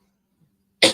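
One sharp sneeze bursts out close to the microphone in a kitchen after near-silence with a faint low hum.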